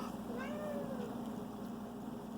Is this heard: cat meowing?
yes